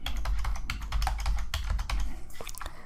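Rapid, continuous keystrokes on a computer keyboard as a mobile number is entered into an online GST enrollment form, close and crisp with an irregular patter and no voices.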